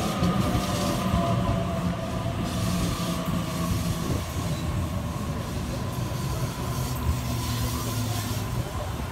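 Sydney A-set electric train at Regents Park station, a steady loud rumble of wagons rolling past with wheel squeal and rail clatter throughout.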